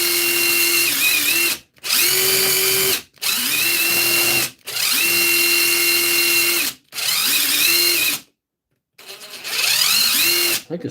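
A DeWalt SDS drill runs under test after a repair, in about six loud bursts of a second or two each. Every burst winds up to a steady high whine, then cuts off into short pauses.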